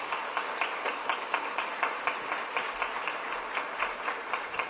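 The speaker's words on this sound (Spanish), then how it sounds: "Te doy un aplauso y un reconocimiento." Audience applause at the inauguration of a youth event, heard as steady, fairly even clapping at moderate distance, a continuous patter of many hands with no talk over it.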